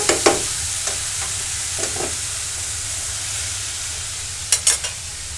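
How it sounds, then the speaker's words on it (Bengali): Leafy greens and fish fry in a pan, a steady close sizzle with a few stirring scrapes and clatters scattered through, sharper utensil knocks near the end. "এই শাক ভাজিটা মোটামুটি হওয়ার অবস্থায়, আর মাছটা সুন্দর করে ভুনা করে নিব"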